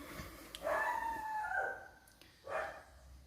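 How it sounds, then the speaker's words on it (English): A puppy howls outdoors at a distance at night, one long wavering howl followed by a shorter second one, with no talking. "you can hear my little puppy outside."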